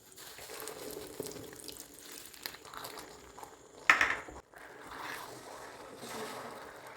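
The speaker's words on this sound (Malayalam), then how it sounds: "അര കപ്പ് ഇളം ചൂടുവെള്ളം ചേർത്ത് കൊടുക്കാം" Half a cup of lukewarm water is poured into a pan of melted sugar for plum cake, giving a soft splash and brief trickle in a quiet kitchen with faint handling noises around it.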